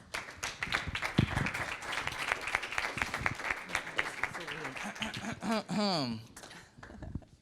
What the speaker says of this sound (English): Thank you for the applause, everybody.